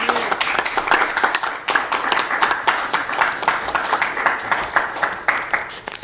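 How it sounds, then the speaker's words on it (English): Applause at a council meeting, a small group clapping steadily with distinct individual claps, fairly close and moderately loud, sustained for several seconds without talk. "I hope you're applauding for yourself"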